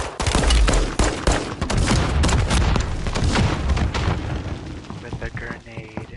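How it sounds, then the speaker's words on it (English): Grenade blast in Call of Duty Warzone, a loud booming burst of game explosions and gunfire crackle rolling over about six seconds, with a player's voice talking over it. "A grenade."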